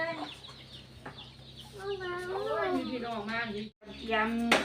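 Backyard chickens at a rural farmhouse in Chakkarat, Korat, Thailand cluck loudly and close by, with rising and falling squawks and a burst of excited calls at the end.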